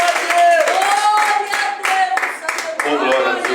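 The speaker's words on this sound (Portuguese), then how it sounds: "Vamos dar uma salva de palmas a Jesus Cristo." A church congregation claps together in a quick, steady patter that carries on under a preacher's loud, sung-out speaking voice.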